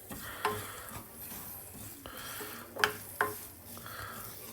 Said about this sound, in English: I'm just doing a little 30 gram roux here, 30 grams of each.